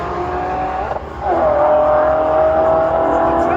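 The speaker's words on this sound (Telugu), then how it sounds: "జీటీ 263 కిలోమీటర్స్ వేగంతో అయితే వెళ్ళింది, మామూలుగా కాదు." Shelby GT race cars roar along a track in Kuwait, a loud engine note rising as one accelerates hard and holds a sustained high-revving drone.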